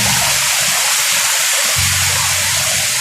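Rushing water flows steadily at a spring resort, a loud broadband wash that holds constant throughout with a low rumble underneath.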